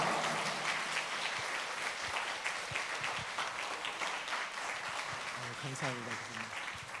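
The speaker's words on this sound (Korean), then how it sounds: "큰 박수로 환영하겠습니다" An audience at a parents' school lecture applauds to welcome a professor, with sustained, fairly distant clapping throughout and a voice speaking over it toward the end.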